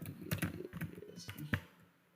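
Computer keyboard keys clatter in short irregular bursts while someone enters a command to load a database from an .sql file, fairly close and moderately loud with brief pauses between keystrokes, no voice over it.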